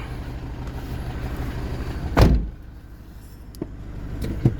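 Car driven for an ABS brake test after repair, with steady engine and road noise giving way to a sharp loud thump, then quieter rolling with a few faint clicks.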